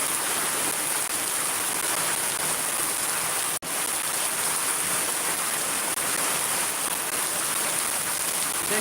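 Steady heavy rainfall in Shariatpur fills the air with a broad, close hiss, holding its level apart from one sharp momentary drop partway through, with no speech.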